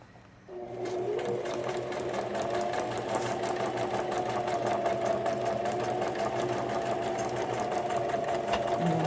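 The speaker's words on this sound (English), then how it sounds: "I'm going to do a couple of back stitches" A sewing machine runs continuously and close up, stitching back stitches on a small pocket of a shaker card, a steady rapid mechanical whirr with a fast even needle rhythm and no pauses.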